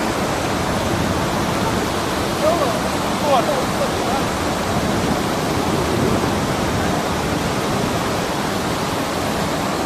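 Floodwater waves surge over the overflowing Machchhu dam near Wankaner, a loud, steady rushing roar like a waterfall, with voices faintly mixed in.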